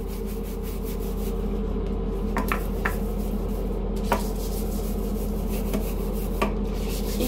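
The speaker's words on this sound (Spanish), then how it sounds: "es el tiempo que van a tardar tallando en cada pedacito" Steady rubbing scrub of a brush or pad inside a toilet bowl with cleaning powder, continuous and close, with a few brief knocks standing out over the constant friction.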